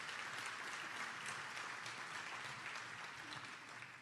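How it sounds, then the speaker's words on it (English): Audience at a state of business address applauding legislators, a steady, even wash of clapping that fills the room without a break and fades slightly at the end. "they deserve a round of applause for their efforts against tough odds"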